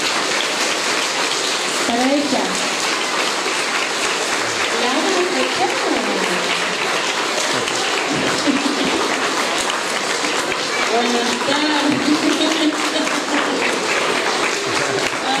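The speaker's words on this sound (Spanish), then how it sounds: "Quiero un fuerte aplauso" Strong, steady applause fills a school tribute ceremony honouring a long-serving teacher, Griselda Serale, continuing throughout with voices speaking over the clapping.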